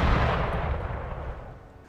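Gunfire crashes out in an Empire: Total War battle as one loud, booming volley that fades over about two seconds, with no voices over it.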